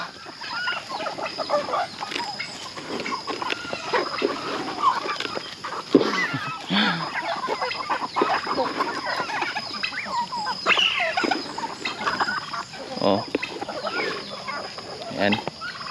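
Farm geese honk and cluck continuously in open air, several birds calling at once with overlapping irregular squawks at moderate distance, a busy steady flock chatter with no talk.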